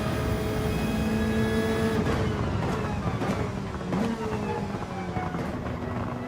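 A Hyundai Elantra TCR in Gran Turismo 7 lifts off the throttle, its engine drone giving way to a thin, steady whistle that holds over the racing car's continuous mechanical noise, close and fairly loud.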